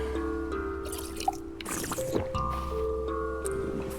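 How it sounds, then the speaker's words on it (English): Water is drunk in a survival video game, rendered as short liquid gulps and drips layered over steady tonal game music, with a louder squishy swallow in the middle. "Get some water in us."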